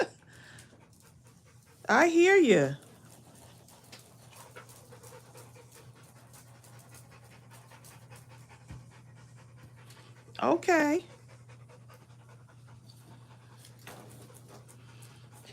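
A dog pants and whines nearby in two short bursts, a few seconds apart, under a low steady hum, while someone speaks briefly at a crafting table.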